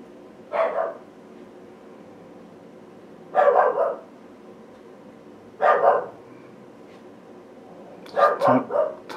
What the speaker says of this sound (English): My dog is calling me.